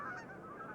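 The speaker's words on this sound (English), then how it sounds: "The calls of migrating geese proclaim a change of seasons." Geese honk in a short burst, a faint, distant flock of migrating geese calling over a lake.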